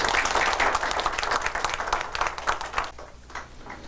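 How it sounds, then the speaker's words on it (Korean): An audience warmly welcomes a professor at a Korean seminar with close, lively clapping over a low room hum, which thins out and trails away after about three seconds. "우리 최병성 교수님 큰 박수로 맞아주시기 바랍니다"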